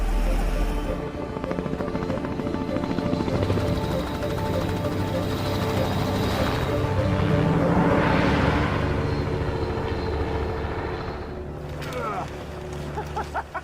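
Helicopter flying over the Arctic, its engine and rotor wash a dense, continuous roar swelling and fading slightly, with a narrator speaking over it throughout.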